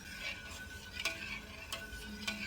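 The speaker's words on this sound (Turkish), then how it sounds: "Önce şeker iyice eriyene kadar karıştırıyorum." Soft, repeated scraping strokes of a utensil stirring sugar in a pot on the stove, a few seconds apart, quiet and close, with a faint background hiss.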